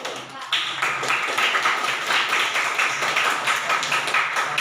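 Students in a classroom lesson clap together in a steady, continuous patter of hand claps that starts suddenly and keeps going at an even level, fairly close and moderately loud, with a faint murmur of voices beneath.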